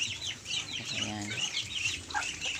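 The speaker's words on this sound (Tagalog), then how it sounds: "Mga alagang itik na makulit." Pet ducks quacking and clucking close by as they are fed bananas on a farm, a busy flock chattering in short repeated calls with faint voices in the background.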